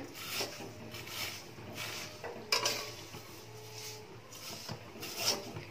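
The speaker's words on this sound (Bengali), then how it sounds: "সিমইটাকে একটু লাল লাল করে প্রথমে একটু ভেজে নেব এই ঘিয়ের মধ্যে" Vermicelli being fried and stirred in melted ghee in a pan, with soft scraping and rubbing of a spatula on metal and a faint sizzle, plus a sharper clink partway through. Close, moderate and steady, with no talk.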